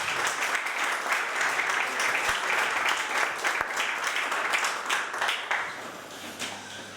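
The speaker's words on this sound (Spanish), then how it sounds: "os pido un aplauso no solo para Agustín Santos y para David Comas" An audience at a political event claps together in sustained applause, moderately loud and even throughout before easing slightly near the end.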